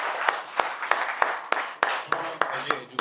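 An audience at a residential camp claps in a steady, regular rhythm, about ten sharp, evenly spaced claps in unison, close and moderately loud with faint murmuring beneath.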